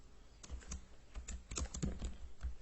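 Computer keyboard keys are typed while entering a package-listing command in a Linux terminal: about a dozen quick, irregular clicks, close and fairly quiet, with no voice.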